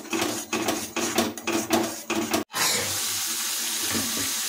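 Water poured into a pan of tomato paste masala for a rohu fish curry, a steady splashing trickle with clinks of utensils, then a brief cut into a continuous hissing flow.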